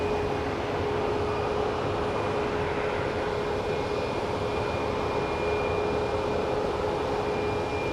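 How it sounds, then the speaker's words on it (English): Southwest airliner at Phoenix Sky Harbor airport, a steady loud engine roar with a constant whine holding evenly throughout, no talk over it. "So it looks like our next plane is a Southwest headed to Oakland."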